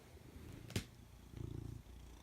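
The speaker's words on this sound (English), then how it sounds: "Well, you rubbish cat." A domestic cat purring close by, a low rumbling pulse that swells briefly after a short sharp sound, then fades back into quiet room noise.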